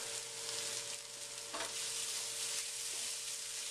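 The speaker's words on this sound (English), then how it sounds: "Give this one last good stir" Ground beef empanada filling fries in a pan over a low flame, a steady close sizzle with faint scraping as it gets a final stir.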